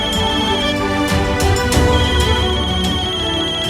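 A mobile phone ringtone plays loudly and steadily with a bright tonal melody, filling a short indoor moment with no talk over it.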